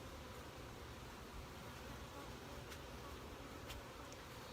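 Honey bees buzz as a continuous dense hum while a split is installed into a Flow Hive, steady and close throughout.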